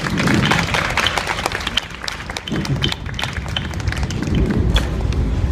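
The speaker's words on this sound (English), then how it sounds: "make it feel really special with a big clap and cheer" Street show audience in windy outdoor Sydney setting clapping and cheering, a dense steady wash of applause with scattered claps and thuds throughout, continuous and fairly loud.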